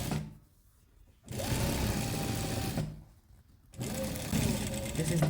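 A sewing machine stitches an elastic-fitted sheet in two loud, steady runs of rapid mechanical whirring, separated by brief quiet pauses, close up.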